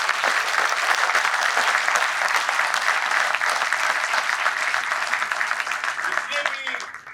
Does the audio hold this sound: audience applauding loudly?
yes